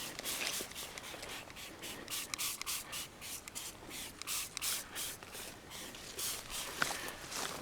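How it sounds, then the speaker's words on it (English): Bursts of hissing spray onto tree branches come in quick repeated pulses with brief pauses, steady and fairly close, with no voices. "I'm just spraying the hell out of these branches"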